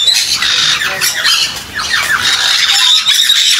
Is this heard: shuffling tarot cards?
no